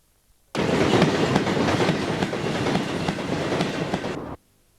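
A coal train from the Silverwood stockpile rolls past Belmont Yard beside the East Coast Main Line. Loud, close wagon rumble and rhythmic clickety-clack start abruptly, hold for about four seconds, then cut off.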